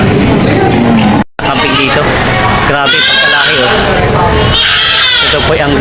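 Goats bleat loudly at a goat market over a busy, crowded background of voices and chatter, with a brief cut partway through.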